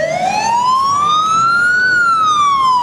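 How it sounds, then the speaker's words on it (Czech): Volunteer fire brigade engine from Osová Bítýška approaching a town square with its warning siren, a loud, close electronic wail rising steadily in pitch, then slowly falling, continuous throughout. "výstražné zařízení už prozrazuje, že zásahové vozidlo sboru dobrovolných hasičů Osova Bytýška se přibližuje sem na naše náměstí"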